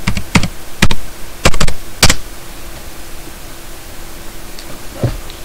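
Computer keyboard typing on a PC, a handful of sharp clustered keystrokes early on, then quieter with a last tap, close and alone over a steady hiss.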